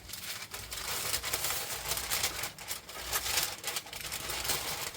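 Parchment paper handled in a kitchen with rosemary salt, a continuous close crinkling and rustling with short crackly bursts throughout, fairly loud and without talk.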